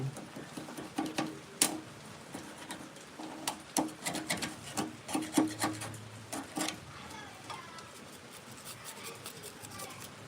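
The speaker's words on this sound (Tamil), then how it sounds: "வீட்லேயே மூங்கில் வாங்கி கட் பண்ணி கரெக்டாக கட் பண்ணி சீவணும் சீவி ரெடி பண்ணணும்" A sharp knife shaves a bamboo stick into a drumstick for a parai drum, making a series of short, close scraping strokes in an uneven rhythm that thin out toward the end.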